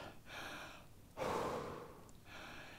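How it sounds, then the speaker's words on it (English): Deep, slow breaths after a weight workout, a long inhale and exhale heard close and soft, repeating in an unhurried rhythm with no talking. "Nice deep breaths."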